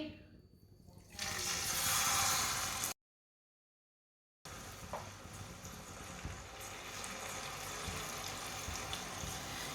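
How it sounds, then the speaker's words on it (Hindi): Water pours steadily in a rushing stream into a pan of semolina and sugar for halwa, cutting off briefly before a quieter continuous trickle and sizzle carry on. "थोड़ा सा पानी डालेंगे।"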